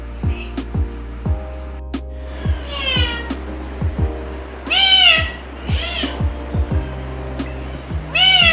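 A pet parrot imitates a cat, repeating drawn-out meows and caterwaul-like cries in short loud bursts, close up over a low steady hum and occasional clicks.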